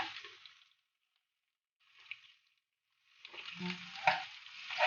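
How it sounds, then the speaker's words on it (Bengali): Garlic fries in oil for a dried-fish bhuna, starting with a short burst of sizzling, then a quiet gap and a small spurt, before building into louder crackling and spattering with stirring. "তেল দিয়ে তারপরে রসুন দিলাম।"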